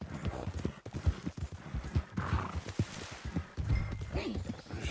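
Horse hooves clip-clop at a steady walking rhythm in Red Dead Redemption 2, close and moderately loud, with characters talking over them throughout.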